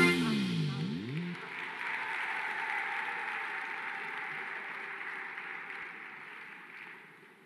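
Applause for a musician at a live event in a large hall, steady clapping from a distant crowd that carries on throughout and slowly fades.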